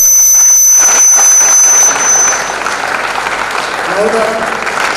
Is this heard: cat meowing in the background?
no